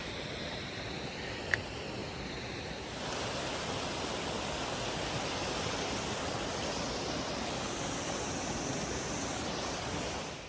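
A mountain creek in the Alpine Lakes Wilderness, Wenatchee National Forest, rushes close by with a loud, constant roar. One sharp click comes early, and then the roar swells slightly and holds steady.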